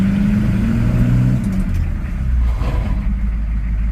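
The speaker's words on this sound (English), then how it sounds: "I'm going to put it in gear and hammer on it so you can hear it go." A 1987 GMC R1500 pickup with a 6.2 V8 diesel is put in gear and given throttle, its low engine note rising in pitch then dropping back to a rough, loud idle close by.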